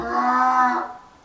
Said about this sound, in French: mon âne